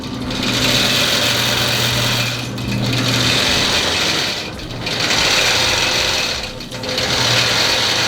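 Longarm quilting machine stitches through a quilt with lighter variegated thread, a loud, close, rapid mechanical chatter in long runs broken by brief slowdowns.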